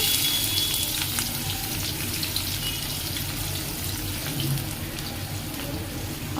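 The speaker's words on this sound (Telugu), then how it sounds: "ఇంక ఇక్కడైతే పోప్ దినుసులు ఉడికే కదా అదే వేగాయి కదా ఇంకా ఆనియన్స్ అయితే వేసుకుంటున్నాను" Chopped onions added to hot oil with tempering spices, frying in a home kitchen pan for a Telugu curry; a steady, close sizzle runs throughout with no talk.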